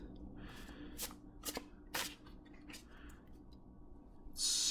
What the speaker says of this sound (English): And it shuffles like a dream.